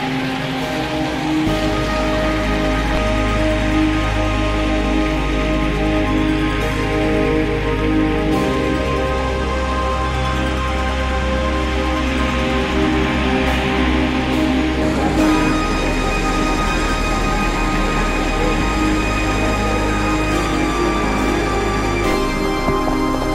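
Heavy tropical downpour on a Bangkok street, a dense, steady hiss of rain on surfaces with a constant low hum beneath it and occasional sharp drips or clicks, loud and unbroken for over twenty seconds with no talking.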